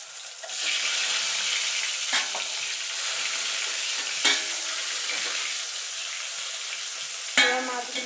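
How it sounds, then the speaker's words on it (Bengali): Pieces of boal fish fry in hot oil on a low gas flame, a steady close sizzle with occasional louder spits and crackles as the pieces are turned, with no voices. "এবার মাছগুলোকে আমি এপিট ওপিট করে লাল লাল করে ভেজে নেব।"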